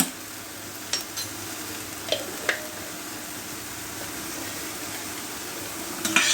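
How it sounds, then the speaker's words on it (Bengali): Spiced brinjal chop mixture being stir-fried in a pan, with a low steady sizzle and a few sharp scrapes and clicks of the spoon against the pan, fairly faint and with no talking. "সব উপকরণ দেওয়া হয়ে গিয়েছে, এখন নাড়াচাড়া দিয়ে ভেজে নিতে হবে।"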